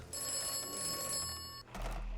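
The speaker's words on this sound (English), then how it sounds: "Do I have to answer the phone again?" A telephone rings in the video game Atomfall, one steady electronic bell trill held for over a second at moderate volume, then cut off by a low hum.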